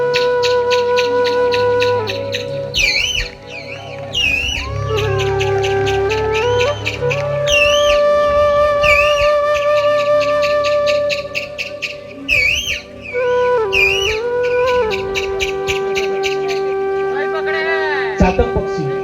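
A performer imitates the call of a koel, the Asian cuckoo, with his voice. The call is a series of loud, close whistled notes that rise and fall and repeat in sweeping phrases.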